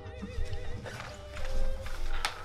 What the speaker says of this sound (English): I want to present you my best Arabian horse.